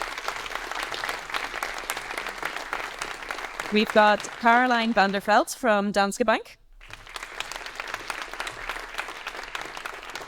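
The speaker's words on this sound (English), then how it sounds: "Give a round of applause" An audience at a DEI panel event applauds panelists as they are introduced on stage. Steady, close clapping fills the room, pauses while a voice announces the next guest, then resumes just as strongly.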